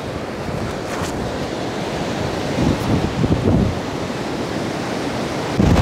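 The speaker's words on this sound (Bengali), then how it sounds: "সমুদ্র উত্তাল এই জন্য সবাই সমুদ্রে নামতেছে না" Rough sea waves breaking on Patuartek beach at Cox's Bazar: a loud, continuous surf roar mixed with wind, swelling slightly in the middle and again at the end.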